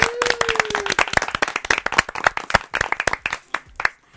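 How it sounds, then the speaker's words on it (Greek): Brisk clapping from a small studio audience applauding a professor on the Greek TV show I'm on TV, sharp close hand claps in an uneven burst that thins out toward the end, with a brief tone at the start. "Και τώρα ένα χειροκρότημα για τον υπέρλαμπρο καθηγητή."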